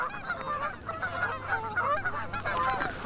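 A flock of geese flying in during a hunt, honking repeatedly in overlapping calls, a busy clamor of many birds at moderate distance with no talk.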